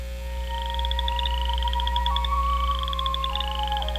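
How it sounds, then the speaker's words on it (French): Boreal chorus frogs trilling, rising rapid clicking calls repeating in overlapping series against a constant low background hum, with no voices. "Ce chant ressemble au bruit d'un ongle qui passe sur les dents d'un peigne."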